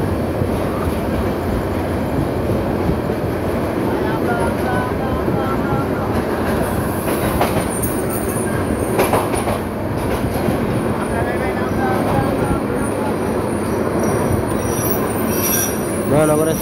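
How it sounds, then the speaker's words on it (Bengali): Mohanagar Express, hauled by a Hyundai 3000-series locomotive, crosses Tongi Junction slowly while another train passes the other way; loud, continuous metallic wheel squeal over steady rail rumble and clatter throughout. "ধীরগতিতে টঙ্গী জংশন ক্রস করে যাচ্ছে, আর বিপরীত দিক থেকে আরেকটি ট্রেন যাচ্ছে।"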